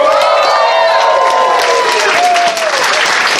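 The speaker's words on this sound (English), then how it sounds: "can we get a huge round of applause for the AV team of this room?" Convention audience applauding and cheering loudly and steadily in a large hall, with dense clapping and scattered whoops throughout.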